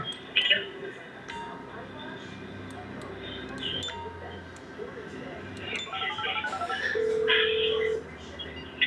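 Phone dialing tones from GTA 5 play as a series of short beeps and a held tone over game background noise, with voices talking intermittently throughout.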